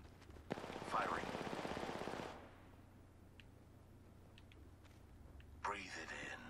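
Apex Legends gunfire rattles in a loud rapid burst of automatic shots, then quieter scattered pops, and a second burst starts near the end.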